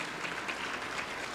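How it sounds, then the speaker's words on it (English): Legislators in a state House chamber give a round of applause for the new Minority Caucus leadership, a brief steady patter of many hands clapping at moderate distance. "Can we have a round of applause for the new Minority Caucus leadership?"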